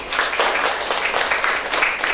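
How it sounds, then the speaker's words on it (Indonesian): Children clapping in a classroom during a school lesson, a fairly brief burst of scattered applause that swells and wavers at moderate volume. "Tepuk tangan anak-anak."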